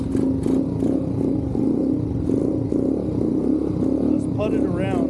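A 125cc XMoto pit bike engine running with the choke on, a steady, loud, close idle chug with a rapid even rhythm, and a voice briefly over it near the end.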